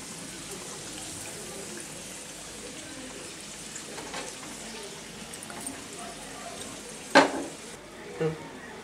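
Samosas deep-frying slowly in hot oil, a faint, even bubbling hiss that runs throughout, broken by a couple of short utensil clinks near the end.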